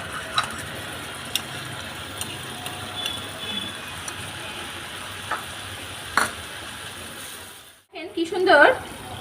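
Frying spice masala in a pan sizzles and crackles as water from rinsing the spice bowl is poured in, with a brief burst of louder sizzling and spattering near the end after a short hush, amid steady background hiss and occasional clinks.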